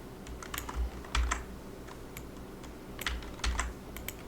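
Quiet, irregular keystrokes on a computer keyboard while entering form fields, scattered light clicks with a few heavier thumps, close and alone with no talking.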